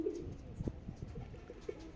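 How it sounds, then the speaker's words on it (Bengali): A pair of native domestic pigeons on a rooftop gives soft, low cooing notes in short bursts, faint and close, with light background noise. "এই দেখেন একজোড়া কবুতর,"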